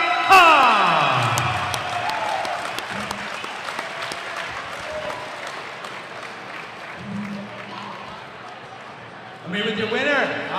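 A fight crowd at an MMA event cheers and applauds loudly after a submission win, a broad roar of clapping and whoops filling the space with a louder burst near the end, while an announcer's voice carries over it.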